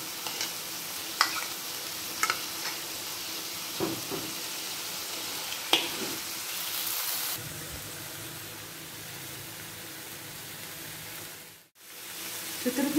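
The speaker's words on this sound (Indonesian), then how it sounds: "Sekarang saya nak masukkan cili kisar, tumis selama 5 minit." Ground chili paste sautéing in a pan for potato rendang, a soft steady sizzle with occasional stirring clicks and scrapes, fading briefly near the end, no voices.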